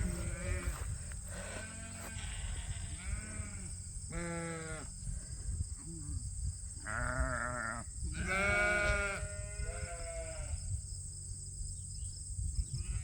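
Sheep in a flock on a farm bleat repeatedly, several overlapping calls near and far, over a steady high insect-like hum and low background rumble.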